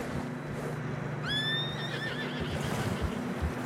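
A horse neighs in a Red Dead Redemption 2 snowy mountain ride, one rising whinny in the middle over steady wind noise and a low hum, with faint hoof clops around it.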